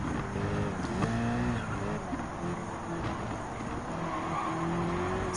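Race cars in Gran Turismo 7, a Mercedes-Benz SLS AMG and a 1994 McLaren F1 among a hypercar field, roar steadily with shifting engine tones and tire squeal as one overtakes another, loud and continuous throughout.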